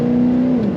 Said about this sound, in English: You can hear that throttle a little bit.